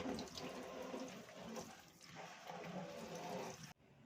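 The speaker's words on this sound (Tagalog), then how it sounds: "paganahin naman natin yung tubig sa lababo para makita natin ang agos" Water runs steadily from a push-button sink faucet in a tiny house, a continuous broadband splashing stream close by that stops abruptly near the end.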